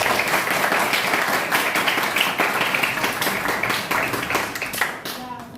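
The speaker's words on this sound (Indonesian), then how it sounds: "Tepuk tangan untuk Sinta dan William" Classroom clapping for two students, a dense burst of many hands clapping close by for several seconds before tapering off at the end.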